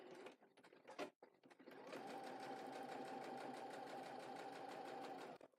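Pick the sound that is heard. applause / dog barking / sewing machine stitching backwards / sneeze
sewing machine stitching backwards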